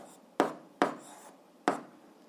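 Pen or pencil on paper jotting down an answer to an algebra exercise, three quick separate strokes on a quiet background, close and soft.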